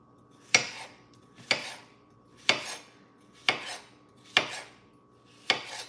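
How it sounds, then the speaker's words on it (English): A knife chops cucumbers on a cutting board, six evenly spaced, crisp knocks about a second apart, close and clear in a quiet kitchen. "all done chopping the cucumbers"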